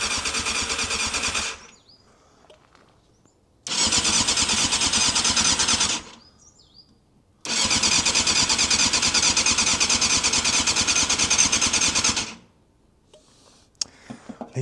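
A Yamaha Thundercat motorcycle that has sat unused for 13 years fires up in three loud, close bursts of rough revving engine noise, cutting out to near silence between attempts, with no talking.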